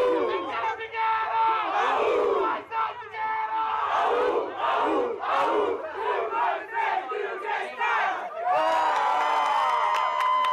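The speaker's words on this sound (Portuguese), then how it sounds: "Isso é a torcida da PEN gritando" PEN fans at a CBLOL League of Legends event shouting and cheering together, a loud rhythmic chant of many voices that swells into a sustained roar near the end.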